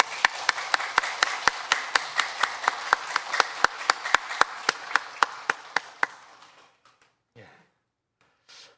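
A church congregation claps together in steady rhythmic beats during a Sunday service, about two dozen sharp claps that stop abruptly, followed by faint rustling and brief quiet.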